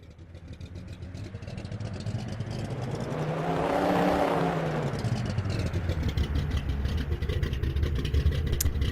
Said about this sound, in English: it is in the Nissan GTR we have a video of